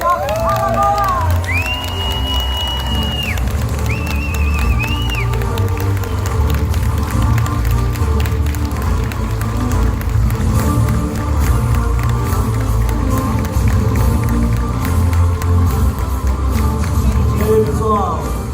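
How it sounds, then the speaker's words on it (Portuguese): An audience at a lecture event applauds and cheers to welcome a speaker, loud and continuous clapping with crowd noise, music tones and brief whistling near the start. "com uma grande salva de palmas, o Dr. André Valente, direto de Maceió."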